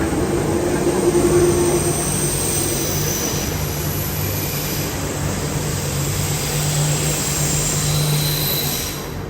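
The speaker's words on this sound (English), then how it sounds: "No, we missed the train." Metro train in a Paris station, a loud, steady rumbling roar with a high whine, fading slightly toward the end as it pulls away.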